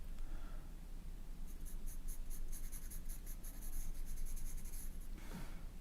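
Ritmo B graphite pencil scratching across paper during portrait drawing, close and continuous with a soft, rhythmic scraping of strokes that ends in a brief final sweep. No one speaks.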